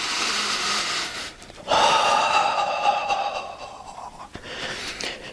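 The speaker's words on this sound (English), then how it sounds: "And we breathe in and out through the nose." Audible nasal breathing during a qigong session, with a soft intake followed by a longer, steady exhale through the nose, close and fairly loud, with no talk.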